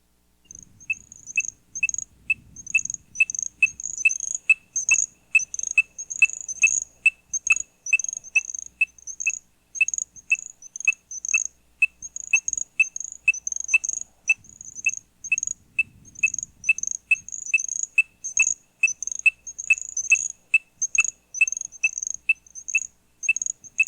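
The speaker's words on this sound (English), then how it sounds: "Pseudacris ornata. It ranges through the southern coastal states and is commonly found breeding along with Pseudacris nigrita. Here it is accompanied by the weak voice of the little grass frog." Ornate chorus frogs (Pseudacris ornata) give loud, rapid, evenly repeated high peeping calls in a steady pulsing chorus, with fainter thin insect-like notes from a little grass frog underneath, outdoors at night.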